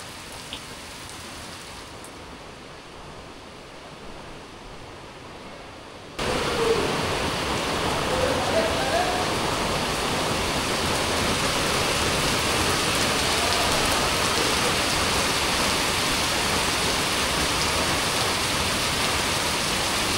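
Heavy rain pours down in a dense, steady roar; after a quieter muffled opening of several seconds it suddenly becomes loud and close and keeps drumming without pause.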